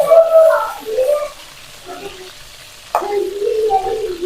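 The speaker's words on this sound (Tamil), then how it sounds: "நல்லா ஃப்ரை ஆயிடுச்சு." Chicken pieces for a curry fry in a pan with a steady, soft sizzle, and a stirring scrape briefly breaks in near the end.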